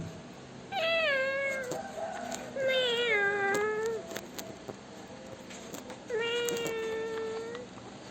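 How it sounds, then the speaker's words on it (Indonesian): Several high, drawn-out meows from many kittens, three main calls spaced apart with softer mews and background sounds between them, fairly close. "Suara ngeong makin ramai."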